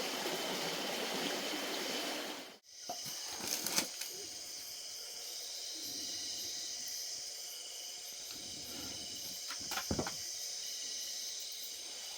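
A forest stream flows among tall trees on a cold winter night, a steady, soft rushing that cuts off abruptly, then a fainter watery hiss continues alongside faint insect chirps and occasional small knocks.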